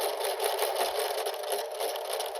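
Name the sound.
sewing machine tacking stitches at end of seam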